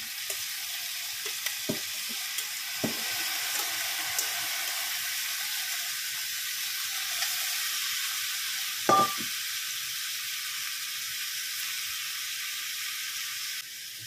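Pre-boiled pork browning in a pan, a steady, bright sizzle hissing continuously throughout, with a few soft knocks and shifts of the meat, fairly close and without any voices.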